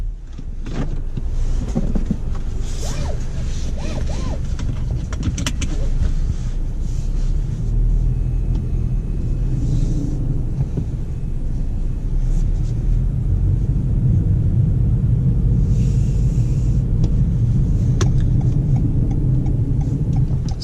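Cabin of a 2019 Toyota Corolla XSE on the move, a steady low road rumble and engine drone throughout with faint interior rustles and no talk.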